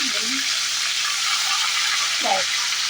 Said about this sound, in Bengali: তো খুব ভালো করে মাছের মাথাগুলোকে ভেজে নেবেন আগে।